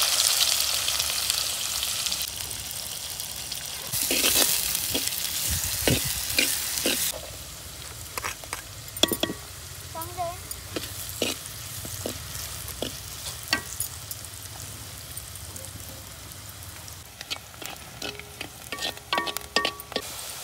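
Onion with cumin seeds and curry leaves fries in a pan over a village wood-fired stove, a loud hiss at first, then steady crackling sizzle punctuated by frequent spoon taps and scrapes as it is stirred.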